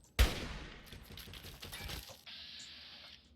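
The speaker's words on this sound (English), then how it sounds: "Hunting rifle. No scope. Oh baby, take your pot shots." Hunting rifle fire in the video game Fallout 3: a sharp, loud report opens a dense, crackling burst of gunfire lasting about two seconds. A steady high-pitched electronic tone follows after the shooting stops.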